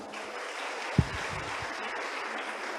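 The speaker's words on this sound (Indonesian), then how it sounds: "kasih tepuk tangan dulu dong" Audience applause at a 2022 new-student welcome ceremony in an Indonesian university hall, a steady, dense wash of many hands clapping at moderate distance, with one brief thump near the middle.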